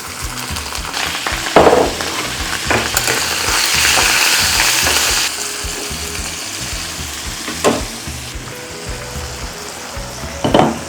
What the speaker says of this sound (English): My oil is hot. I'll put my beef inside.